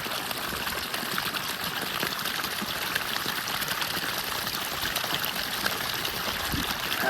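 Water trickling and pouring steadily on a farm, running as a continuous close stream with no talk, as if poured into cupped hands for drinking.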